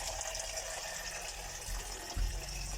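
Water gushes steadily out of an instant electric water heater tap, a continuous hissing flow heard close and fairly faint, with a brief thump near the end.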